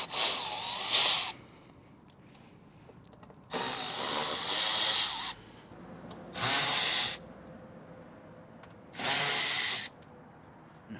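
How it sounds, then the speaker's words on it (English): An electric ratchet backs out the 7mm fasteners on an aftermarket diffuser fitted to a Dodge Charger Scat Pack, whirring in four loud, close bursts of one to two seconds with quiet pauses between and no voices. "I'm going to use a electric ratchet, but again, you can use a regular ratchet."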